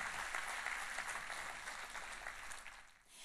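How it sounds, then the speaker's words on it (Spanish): A church congregation applauds during a sermon, a continuous wash of clapping at a distance, fairly faint and even before tapering slightly at the end. "¿Cuántos le damos un aplauso bien grande a Dios?"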